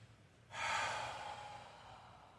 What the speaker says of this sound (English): In Ujjayi breathing, we're trying to tighten the sinuses on the inhalation and tighten the back of the throat or the glottis in the exhalation.